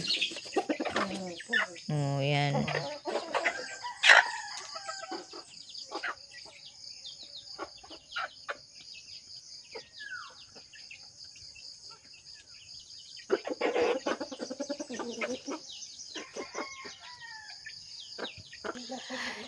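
Chickens cluck and chirp nearby in short, scattered calls over a background of insect buzzing, with a brief voice speaking.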